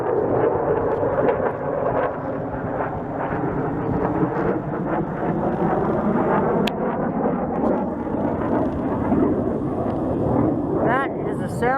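Jet aircraft roar overhead outdoors on a mountain hike, a continuous loud rushing rumble from two jets that swells and holds, with wind buffeting the microphone.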